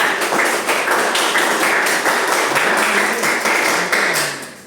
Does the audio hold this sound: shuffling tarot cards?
no